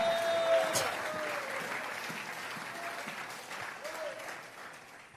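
A church congregation breaks into applause, a dense wash of clapping that starts strong and slowly thins out, with voices in the mix.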